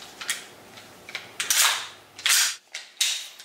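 Airsoft gun firing a series of sharp shots, about eight close, loud pops in uneven groups, each with a short hissing tail.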